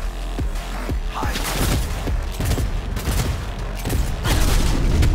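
Heavy gunfire erupts in a Cyberpunk 2077 combat scene, rapid loud bursts and booming shots piling up continuously at close range, with no talking over them.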